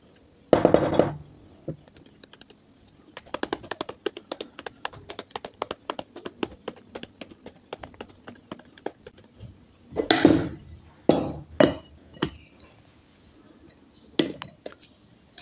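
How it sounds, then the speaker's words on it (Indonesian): A 12-cup moka pot filter basket filled with ground coffee is tapped to level the grounds, giving a run of sharp, close knocks, one strong burst at the start and clusters of louder raps later. "Kemudian baru kita rapikan, kita ketok."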